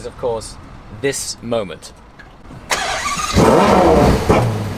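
A Ferrari GTC4 Lusso V12 engine fires up with a sharp bark after a few spoken words, then settles into a loud, rising rev and a snarling idle close by.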